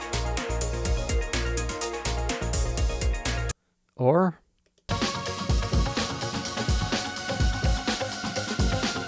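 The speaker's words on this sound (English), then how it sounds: "So breaks sound like this." Breakbeat electronic dance music tracks play loud and dense with driving drums and bass, briefly cut to near silence for a short pitch-swept sound, then resume with another busy beat.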